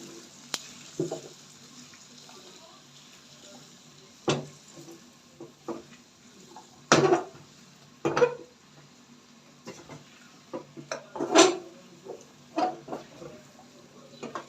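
A spoon stirs spice paste with one kilo of turnips in a cooking pot for a Pakistani dish, giving scattered scraping knocks and soft sizzling at an uneven rhythm, close and moderately loud with no talk.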